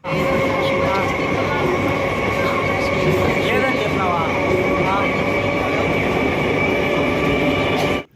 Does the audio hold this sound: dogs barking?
no